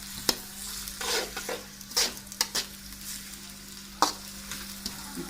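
Mutton and onions frying lightly in a karahi for Peshawari namkeen gosht, a close, steady sizzle with intermittent scraping and clanks of a spoon stirring against the metal, no voices.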